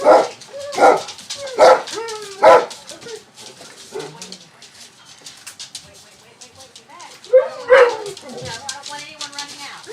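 Several dogs gathered at a house door bark in loud bursts and whimper between them, with a voice talking nearby.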